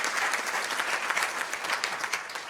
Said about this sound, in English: please give a round of applause to everyone who put so much work into that